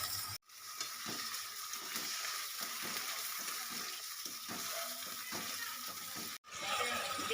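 Onions and fish oil sizzle and fry in a hot pan for a Bengali fish-oil chorchori, a steady close hiss with stirring scrapes and a short break partway through.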